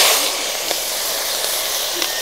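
Tiny fish fry in very hot oil in a kadai, giving a loud, steady, even hiss with a few faint pops.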